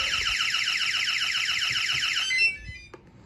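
A security alarm panel's tamper alarm, a rapid, high-pitched electronic warbling, blares steadily for a couple of seconds, then stops, followed by a soft click and quiet room noise.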